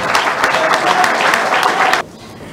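A crowd at a church gathering applauds loudly for the president, a dense burst of clapping that cuts off abruptly after about two seconds, leaving quiet room tone.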